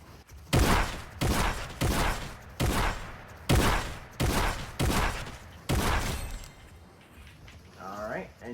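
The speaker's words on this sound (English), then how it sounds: "that would be it for the hip fire" Single hip-fire gunshots in Fortnite crack out about once a second, loud and sharp with short decaying tails, then stop as a voice begins speaking near the end.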